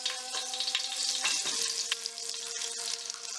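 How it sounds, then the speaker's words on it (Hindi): Butter melts in two tablespoons of hot oil in a pan for mushroom soup, giving a close, steady crackling sizzle with faint stirring scrapes and no voices. "2 टेबलस्पून ऑयल लेके उसी के ऊपर मैं बटर डाल रही हूँ"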